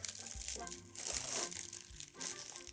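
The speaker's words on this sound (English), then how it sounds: "I'm going to put it in a plastic bag." Crinkly plastic rustling in bursts, close and fairly quiet, with a short pause before a final crinkle.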